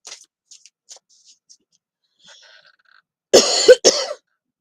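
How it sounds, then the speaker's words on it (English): A person coughs several times in a quick cluster, harsh and close, after a stretch of near silence broken only by faint small clicks and taps. "Sorry, I got a bit of a cough there."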